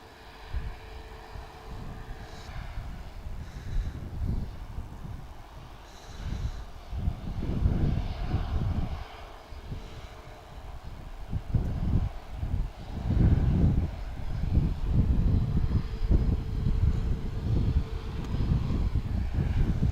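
Eastern Airways regional airliner flying for KLM, just in from Amsterdam, heard after landing at an airport as a steady jet engine roar taxiing nearby with gusty wind noise on the microphone.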